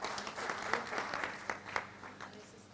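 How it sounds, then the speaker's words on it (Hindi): Scattered applause from an audience at a village community event: a thin, fairly faint patter of individual claps with distinct sharp hits, tapering off over a few seconds. "आप बहन चित्रलेखा के लिए भी तालियां उठाइएगा"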